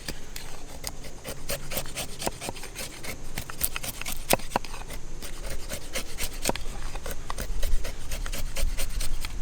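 ESEE knife blade carving and slicing wood with a hammer grip, outdoors: a run of short rasping, scraping strokes repeating steadily at close range, with sharp clicks scattered through and no talking.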